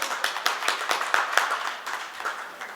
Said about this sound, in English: Can we all request for a round of applause?